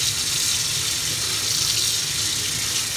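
Tap water runs steadily and loudly into a sink while beans are washed for a homemade beef stew, making a continuous broad splashing rush with no pauses.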